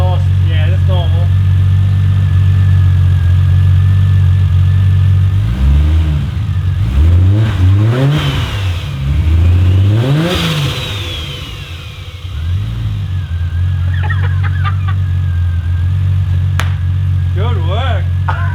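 The V8 engine of a Ford Fairlane drag car idles loud and close, then gets several hard revving blips that climb and fall, and settles back to a heavy, lumpy idle, with people speaking over it.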